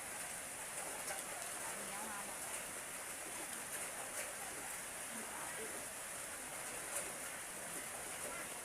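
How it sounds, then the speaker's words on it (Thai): Steady rain hissing across the whole clip, an even wash of drops on a surface with no pauses or other sounds. "ฝนตก"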